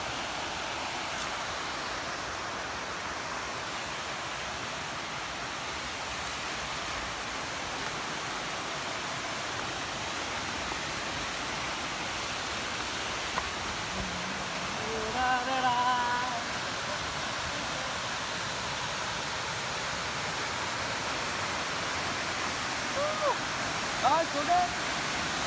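A waterfall roars in a steady, dense wash of falling water filling the whole scene, with brief faint voices surfacing partway through.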